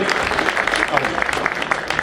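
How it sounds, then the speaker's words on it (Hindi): An audience at a Tees Hazari gathering applauds with a dense, steady patter of clapping that runs throughout, while a voice speaks over it. "जोरदार ताली भाई रमेश जी के लिए, जोरदार"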